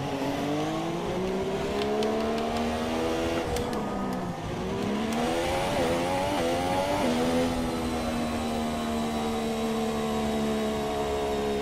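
In a racing video game at the Australian Grand Prix qualifying, a race car engine whines loudly, then drops pitch in quick successive downshifts before climbing and settling into a sustained high rev. No talk accompanies it.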